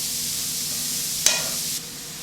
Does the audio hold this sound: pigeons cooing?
no